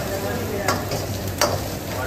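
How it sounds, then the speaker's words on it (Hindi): Garlic, ginger and chili paste frying in hot oil over high heat, a steady close sizzle with two brief stirring scrapes, no talking. "और इसे अच्छे से अब थोड़ा फ्राई किया जाएगा।"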